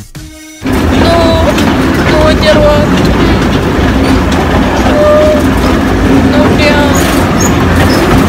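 A small amusement park train ride rolls along with a loud, continuous rumble and clickety-clack, broken by several short whistle-like squeals, after a brief quieter start; voices are faintly mixed in.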